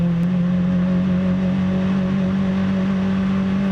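A tuned Hyundai Avante MD drones steadily through a corner on a race track, its engine a constant loud, close hum with a strong low tone and no change in pitch.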